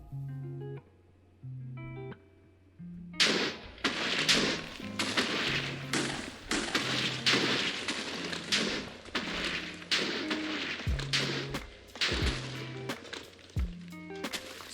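A chain of Minecraft TNT explosions, 1.16.2, blasting toward bedrock: after a few soft tonal notes, a rapid series of loud, sharp booms and crashes bursts out in an irregular barrage, each blast short and punchy.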